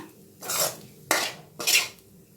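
Roasted grated coconut being scraped from a pan onto a plate with a metal utensil, three distinct scraping strokes, close and clear with no talking.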